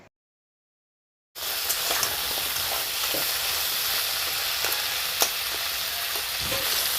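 Crab pieces seasoned with salt and turmeric are stirred and fried in hot oil, a steady close sizzle starting abruptly after a second of silence, with faint scraping stirs and occasional pops throughout.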